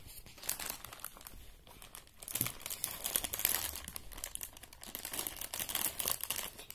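A plastic bag crinkling and rustling up close as it is handled and opened for a Lego Super Mario set, with bursts of crackling that rise and fall over several seconds.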